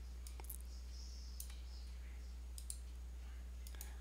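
A computer mouse clicks while software is being installed on Linux: sparse, faint, sharp clicks in irregular pairs over a quiet, steady hum.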